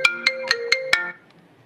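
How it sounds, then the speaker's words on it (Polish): A mobile phone ringtone plays five quick bright electronic tones in an even rhythm, clear and close, ending abruptly and leaving near silence. "to może telefon gwiazdy dzwoni."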